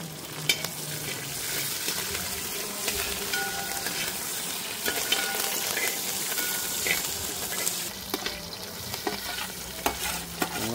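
Ginger and green chillies fry steadily in a pan of oil for a chicken curry, a continuous close sizzle broken by occasional stirring clicks and scrapes, with no talk.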